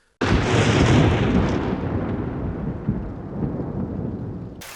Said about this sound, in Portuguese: E quando as chuvas finalmente chegam, elas trazem inundações bíblicas que remodelam o mapa em questão de dias.